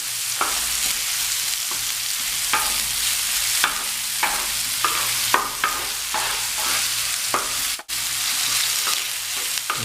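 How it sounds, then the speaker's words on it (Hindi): Chopped medium onion frying in a pan for egg bhurji, a steady close sizzle broken by repeated scraping stirs of a spoon against the pan throughout, with no talking. "मैं प्याज को ब्राउन नहीं करूँगा, सिर्फ प्याज को इतना फ्राई करना कि सॉफ्ट हो जाए।"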